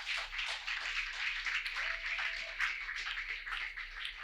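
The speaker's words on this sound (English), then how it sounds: "I think he deserves a round of applause." An audience at a mentorship event applauds steadily and fairly quietly, a dense wash of many hands clapping at once that carries on throughout without clear gaps.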